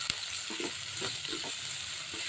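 Onions sizzle and fry in a pan with finely chopped capsicum and carrot for gobhi bhujia, a steady close crackle with faint stirring scrapes and no voices.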